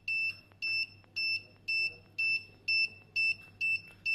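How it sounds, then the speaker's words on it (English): Piezo buzzer on an ultrasonic distance sensor project beeps in a steady, regular rhythm, about eight short shrill tones in quick succession, loud and close with a low hum underneath. "the closer we get, the harder the buzzer sound will become"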